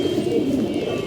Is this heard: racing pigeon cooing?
yes